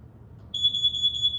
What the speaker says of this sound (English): if it detects CO inside the house, you would hear an alarm that would sound like this